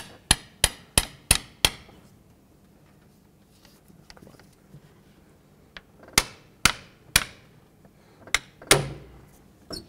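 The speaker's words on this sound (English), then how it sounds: "I'm going to use the rubber end of my hammer and just tap it in." Rubber end of a hammer tapping a rear variable valve timing solenoid into a 2001-2007 Toyota Highlander engine: a quick run of five sharp knocks, a pause with faint handling noise, then another uneven series of close, crisp taps.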